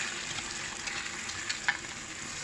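An egg, sugar and milk mixture for halwa sizzles in a pan on low flame, a constant frying hiss with a couple of sharp spoon taps as it is stirred briskly.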